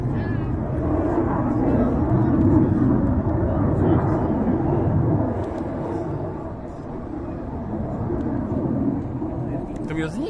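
Roar of an airplane passing overhead at the Mokre air show, a broad loud rumble that swells and then eases as it moves off, with a person talking over it.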